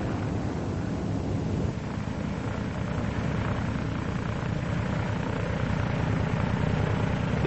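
A WWII F4U Corsair fighter's piston engine drones steadily through a landing approach, a loud continuous roar with low rumble and airy wind noise throughout, no voices.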